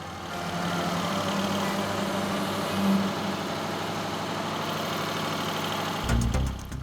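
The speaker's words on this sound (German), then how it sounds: "Und was macht der riesige Dieselmotor?" A huge diesel engine driving emergency backup power at Frankfurt Airport runs steadily, a dense, loud, close rumble with a constant low throb and a brief clatter near the end.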